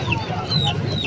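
An Aseel rooster at a poultry market in Tando Adam clucks in short, close bursts over a busy, murmuring background with faint voices.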